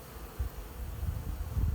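Honeybees at a hive entrance in spring, a steady low insect drone with a few swelling peaks, fairly close and moderately loud, with no voices.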